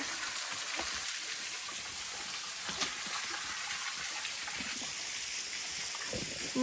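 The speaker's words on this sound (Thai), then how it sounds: "น้ำตกแสงจันน้ำนี่เดียวเองจ้ะ ไหลปกแปกปกแปกเนี่ย" A thin flow of water trickles and splashes at Saeng Chan waterfall in Pha Taem National Park, Ubon Ratchathani, during a dry spell, a steady soft patter with faint droplets, alone and fairly quiet.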